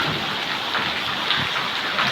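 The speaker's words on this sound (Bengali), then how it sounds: "এত বৃষ্টি হচ্ছে" Heavy rain pours down in West Bengal on a Baisakh afternoon, flooding a veranda with water. There is a dense, constant hiss of rain up close, with no talk.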